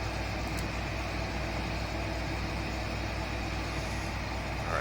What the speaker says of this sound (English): We'll let him follow this tractor.